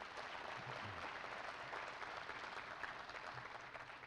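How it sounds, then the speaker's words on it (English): Audience applause at the Risever grand opening in Jonesboro, Arkansas: a sustained, even roar of many hands clapping, steady in level throughout without a break. "Please give him a round of applause and welcome."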